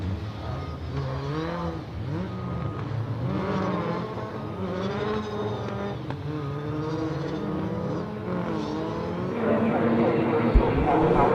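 Race cars rolling to the start line at Killarney Raceway, a steady engine drone with rising and falling revs under continuous commentary, getting louder near the end.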